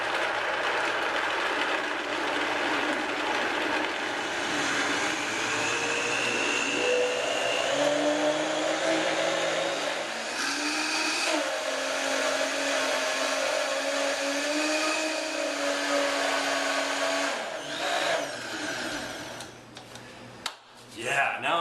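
A kitchen blender whirs steadily as it purées ingredients for a raw wild rice dish. It starts at a low speed, then its pitch rises partway through, and it stops briefly near the end.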